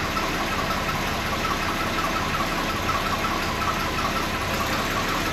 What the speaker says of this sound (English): That runs much better. I'm not going to say quite smooth. There's a subtle misfire,